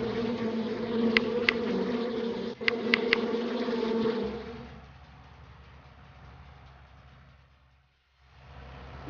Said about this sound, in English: Oh, the bees won't let us through.